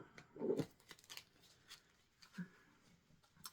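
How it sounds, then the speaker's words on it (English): A few quiet riffling shuffles of thick cards, soft papery flutters with brief pauses between them, close by and fairly faint. "We're going to do 4 shuffles."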